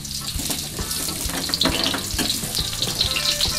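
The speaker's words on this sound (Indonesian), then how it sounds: "pertama tumis semua bumbu di bawang" Spice paste with shallots sautéing in a pan, a dense close sizzle with scattered crackles and pops, no talk.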